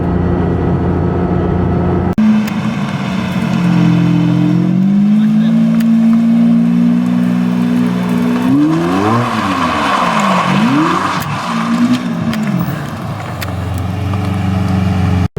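A Ferrari 550 Maranello V12 engine drones steadily, then revs up and down in several sharp, rising and falling bursts, loud and close, with no talking.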